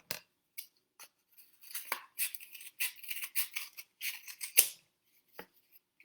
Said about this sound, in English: we're simply going to be cutting about 1 inch of this toilet paper roll